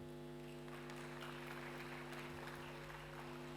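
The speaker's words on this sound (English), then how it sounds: "Let's give a round of applause to Mr. Lee Byung-hyun." A conference audience applauds steadily at an international conference opening, a dense wash of clapping filling the room throughout, heard at some distance.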